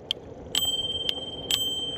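Bell on a JCSD X10 electric scooter rings four times, sharp bright dings in two pairs with short ringing tails, close and alone.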